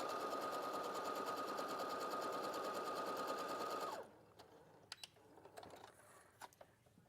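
A domestic sewing machine chain-pieces quilt blocks, running in a steady, fast mechanical whir with rhythmic needle ticking for about four seconds before stopping abruptly, leaving faint clicks and handling noises.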